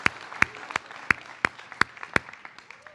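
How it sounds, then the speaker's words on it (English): Graduating class audience at a high school commencement applauding, with a few sharp, loud claps standing out at a regular pace over a thinner background of scattered clapping, fairly close. "let's give them a round of applause for all of their work in helping you"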